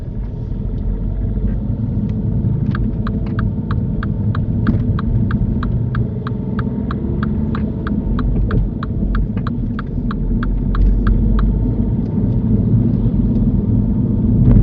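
A car idles steadily through a driving lesson, its low engine hum and throb constant and close, with a regular ticking indicator clicking on top for most of the stretch.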